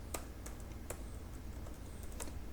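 Steady, fairly close typing on a computer keyboard while writing Laravel 8 code, with a run of light key clicks and a few sharper taps over faint background noise.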